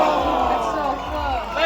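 A large crowd at the SLS Super Crown skateboarding finals in Florida roars and cheers for skateboarder Nigel Houston, a loud sustained mass of shouts and whoops filling the arena.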